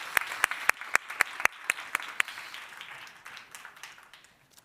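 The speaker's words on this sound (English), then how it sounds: "A big applause for our speakers and congratulations." Applause for speakers at a UCLG Culture Summit on cultural rights, opening with a handful of loud, sharp claps that break up into scattered, softer clapping and trail away over a few seconds.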